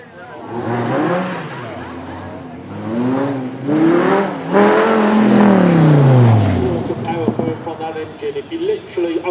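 An 8.4 litre, 600 horsepower V10 supercar engine with side exit exhaust at a supercar weekend, revving close by in several loud rising and falling sweeps, then settling into a rough, uneven idle.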